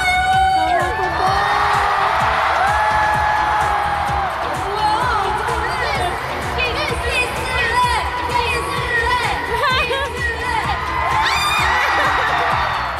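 At a concert, the crowd cheers at a fan's marriage proposal, a loud continuous roar of screaming and shrill whoops that swells and carries on for the whole stretch.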